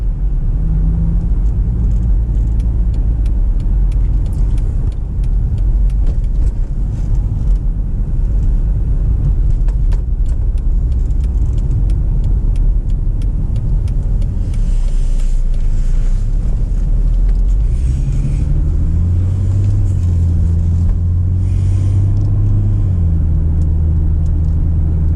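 A 2008 Impala cruises along a road, steady loud rumble of tire and wind noise filling the cabin, with engine tones rising slightly as speed shifts near the end.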